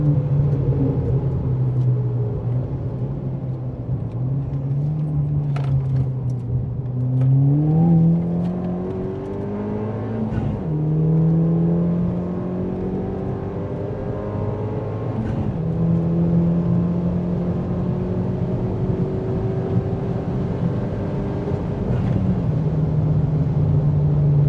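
A Ford Fiesta ST180 engine, Stage 2+ tuned, revs hard and continuously on track at Snetterton, climbing through the gears with brief dips at each shift, a loud droning roar with no talking.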